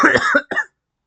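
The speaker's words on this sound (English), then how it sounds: "Ah, that cough just will not go away." A person coughing, two quick harsh close coughs, then silence.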